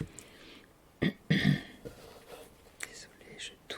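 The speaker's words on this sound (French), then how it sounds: "désolée, je tousse encore," A woman coughs a few times and clears her throat during a soft whispered ASMR product presentation, the coughs close and abrupt between quiet whispering.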